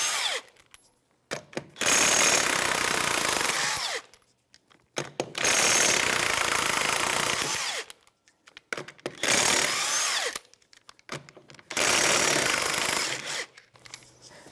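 Impact wrench zipping lug nuts off a 2013-2018 Toyota RAV4 rear wheel with a 21mm socket: four loud, rattling bursts of roughly two seconds each, separated by short pauses, close up with no talking.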